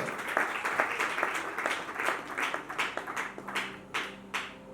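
A congregation at a church gathering claps steadily for a reverend prophet, dense rhythmic handclaps building then thinning, moderately loud with no cheering voices standing out.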